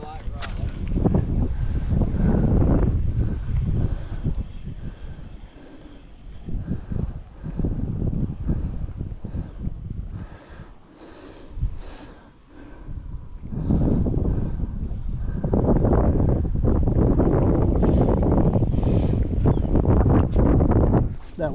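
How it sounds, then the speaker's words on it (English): Wind gusting across an open fishing boat on the water, a loud steady rush and buffeting against the microphone that swells and eases, with people talking over it. "That wind picked up, didn't it?"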